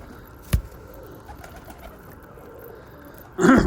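Bango pigeons coo softly at close range, a low murmuring call repeated quietly, broken by a sharp knock early and a louder burst of cooing and flapping at the end.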